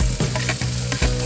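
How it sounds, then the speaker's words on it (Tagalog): Sliced papaya frying in a pan, a loud close sizzle interrupted by a few sharp stirring scrapes. "At isusunod po natin yung iniwang papaya, gayat na papaya."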